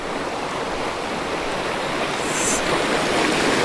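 Water rushes steadily at Thottikallu waterfall near Bangalore, a continuous broad roar of flowing water, close and loud, with no voices over it.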